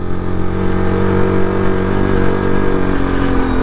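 A motorcycle labouring uphill in first gear on a mountain road in Sikkim, its chain slack: a loud, steady, close engine drone with a continuous strained hum and no talk.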